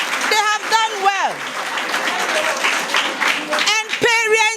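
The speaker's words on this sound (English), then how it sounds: "So clap for Directaid" Applause from an audience at a Direct Aid Society Ghana student assistance event at Mercy Social Center: steady dense clapping throughout, with raised voices and drawn-out cheering calls rising and falling over it.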